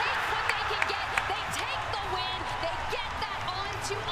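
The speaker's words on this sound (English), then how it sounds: "The crowd's crazy, dude." Crowd at an ALGS Year 5 Apex Legends championship esports watch party in Sapporo cheering and applauding, a steady dense roar with scattered claps and shouts, continuous throughout with a commentator's voice over it.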